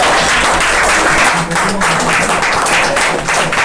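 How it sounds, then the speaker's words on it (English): A crowd at an awards ceremony applauds steadily with dense clapping that fills the whole stretch, loud and sustained, with a brief dip partway through. "A big round of applause for her"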